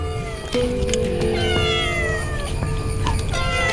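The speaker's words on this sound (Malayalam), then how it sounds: "പൂച്ചകൾ ഇവിടെ നിന്നിട്ട് ഇങ്ങനെ വിളിയോട് വിളിയാണ് മീൻ കിട്ടാൻ വേണ്ടിയിട്ട്." Several cats meow loudly and repeatedly for fish, overlapping cries with drawn-out wails, close by over a steady background.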